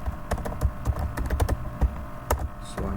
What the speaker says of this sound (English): So I'm just typing some movie names.